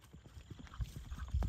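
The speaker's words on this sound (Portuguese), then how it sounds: "Gabi, no galope?" Hooves of horses ridden by cowboys chasing a Nelore bull, a run of dull irregular thuds growing louder and nearer over a faint outdoor background.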